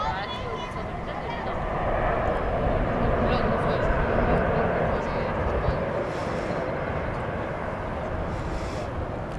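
A jet airliner departs DFW Airport at night with a broad, steady roar that swells and holds through the middle before easing slightly, while faint voices murmur in the background.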